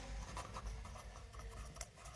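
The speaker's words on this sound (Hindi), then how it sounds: "मैं यहाँ पे एक सेंटेंस लिखता हूँ।" Chalk or marker scratching across a board as a sentence is written during a classroom English grammar lesson, a faint, steady run of small strokes and scrapes with no voice heard.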